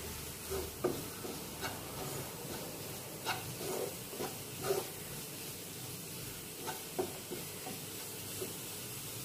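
Ground sambar powder and spices sizzle and sauté in a hot pan for egg curry, a steady hiss broken by repeated scraping stirs of a utensil against the metal.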